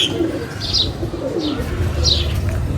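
Pigeons coo softly and repeatedly at close range, with a few higher chirps mixed in over a constant background hum.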